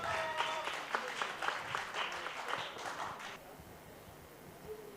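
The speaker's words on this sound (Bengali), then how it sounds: "আব্দুর রহিম ভাইয়ের জন্য একটা করতালি হবে।" An audience at an inspirational speech event applauds speaker Sheikh Mohammad Abdur Rahim, brisk, lively clapping for about three seconds that then stops abruptly, leaving a quiet, hushed hall.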